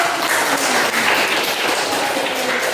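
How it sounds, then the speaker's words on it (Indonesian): A classroom of students at a junior high school applauds together, a dense, loud, continuous clapping that holds steady for a few seconds with no speech over it. "Oke, tepuk tangan."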